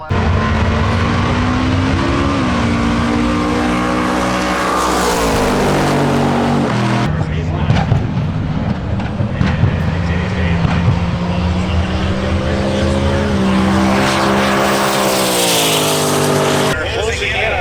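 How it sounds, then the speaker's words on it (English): A Monza Spider drag racing car's loud engine roars and revs at a drag strip, pitch climbing and dropping through several surges, with voices talking underneath. "This is a Monza Spider. It's also a very fast car here today."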